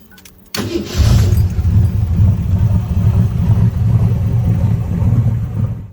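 A 1927 Ford Roadster hot rod street rod with an original Henry Ford steel body fires up after a brief crank and settles into a loud, close, steady rumbling idle.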